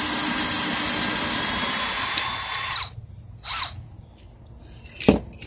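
A power drill whines steadily for nearly three seconds while jacking down a car during a tire change, then stops, followed by a few short clicks and a brief thud.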